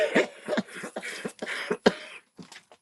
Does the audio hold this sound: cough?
yes